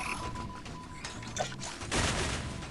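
A bomb strikes a player in an Identity V ranked match, a burst of crackling, rapid-fire blasts stacked over steady game ambience, with no voices.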